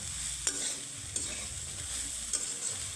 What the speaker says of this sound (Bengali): তো খুব সুন্দর করে আমি সয়াটাকে ভেজে নেব